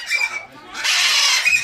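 Parrots at a parrot park in Kerikeri, New Zealand, giving shrill, loud squawks in two bursts with a brief dip between them, close by.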